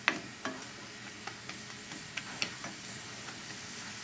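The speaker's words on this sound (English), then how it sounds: "after we sweat this up, and it's a little translucent, add the tomatoes, cook it for a couple of minutes" Onions and tomatoes cook in a pot as the base for a seafood stew, giving a soft, steady sizzle with light clicks of stirring scattered throughout and no voices.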